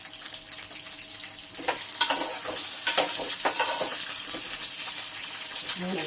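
Chopped ivy gourd (tindora) for a masala curry sizzles steadily in a pan. Soft irregular clatters of stirring and scraping sit on top of a constant hiss, heard close and fairly quiet.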